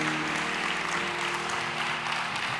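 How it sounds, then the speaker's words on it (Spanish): A church congregation applauds together, a dense, continuous patter of many hands filling the room at a steady level. "Alguien tiene que aplaudir su gloria."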